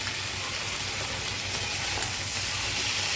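Fish fries in very hot spiced oil with turmeric and green chilli, giving a loud, dense, steady sizzle and hiss that continues unbroken and close by, with no voices.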